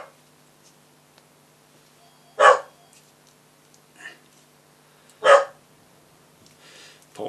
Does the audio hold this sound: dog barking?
yes